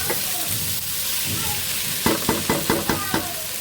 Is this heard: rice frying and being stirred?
yes